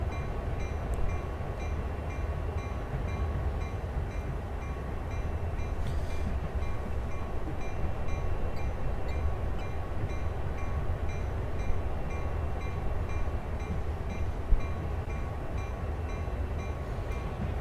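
Freight train hauling auto rack cars rolls past a rail yard near a turntable, a continuous steady rumble and rattle of wagons at moderate distance, without voices.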